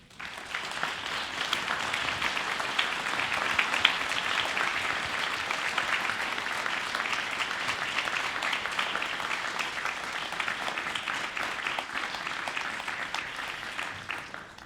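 A sustained round of audience applause honours veterans at a gathering with a Tuskegee Airman, a dense, even wash of many hands clapping that holds steady for the whole stretch before tapering at the end.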